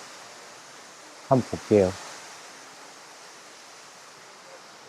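A waterfall near the Kazurabashi vine bridge in Shikoku, Japan, pours as a constant broad rushing hiss, with a person briefly speaking over it.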